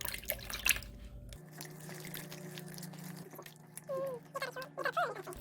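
Cooled broth is poured into ponytail radish (altari) kimchi for mixing. A soft, brief pour and light dripping are heard close by, with faint splashes near the end.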